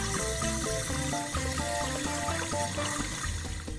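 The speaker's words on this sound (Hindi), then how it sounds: "वैन में से फायरमैन उतर के पानी मारने लगा।" A cartoon firefighter's hose blasts water at a car, a steady loud rushing hiss running the whole time beneath bright, bouncy background music.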